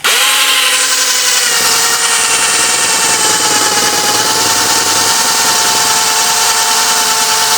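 A power drill with a 20mm bit bores through a shaft on a 1961 Cadillac Deville 390, a steady, loud whining grind that starts after a brief spin-up and holds constant without pause.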